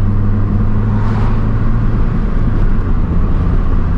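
A 2009 Mazdaspeed 3 engine drones loudly and steadily from inside the car during a test drive. Its low, sustained roar rises slightly as the engine revs.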